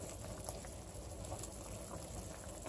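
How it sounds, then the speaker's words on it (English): Peas cooking at a rolling boil in a pot give a steady, dense bubbling wash that runs unbroken at close range, with no voices over it. "It's at a rolling boil, and I'm going to give it a good stir."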